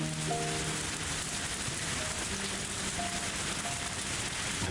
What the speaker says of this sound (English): The forecast said that there was a chance of rain in the evening, but I didn't think it would rain so hard.